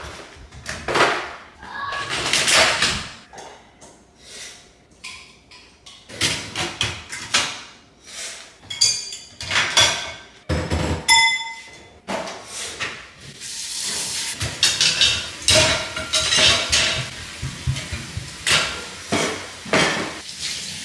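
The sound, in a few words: washing dishes, clinking plates and cutlery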